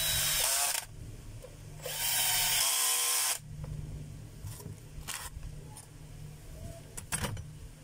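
A DeWalt D25899 power tool runs in short loud bursts, two whirring spells about a second each separated by quieter pauses, followed by scattered clicks and brief knocks.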